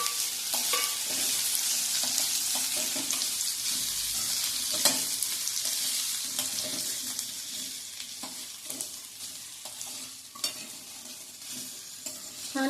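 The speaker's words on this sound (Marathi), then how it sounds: "छान परतून घ्यायची काकडी, त्याचा कच्चेपणा जाईपर्यंत परतायची" Chopped cucumber sautéing in a pan after a tempering of crackling cumin, a steady sizzle and frying hiss with repeated stirring and scraping scrapes throughout, close and fairly loud, no voices.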